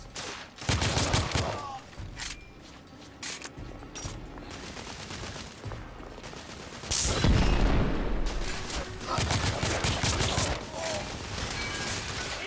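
Bursts of gunfire from The Order: 1886 video game, volleys at about 1, 3, 7 and 9.5 seconds with a steady din of battle noise between them.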